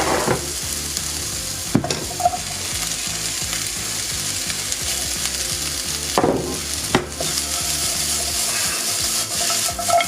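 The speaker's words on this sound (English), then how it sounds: "I'm going to throw in the chopped onions and the garlic." Chopped onions and garlic fry in a pan with a dense steady sizzle, punctuated by a few sharp clicks and scrapes of stirring and a rattling mechanical ticking beneath.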